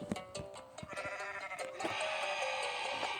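A goat bleats repeatedly in Goat Simulator, with short tonal cries over a quiet chiming background, growing brighter and more continuous toward the end.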